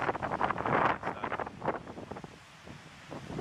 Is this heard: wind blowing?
yes